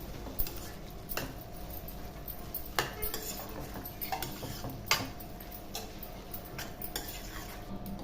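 A spoon scrapes and clinks against a pan as ridge gourd masala curry is stirred, with soft, irregular taps and scrapes over a quiet low background.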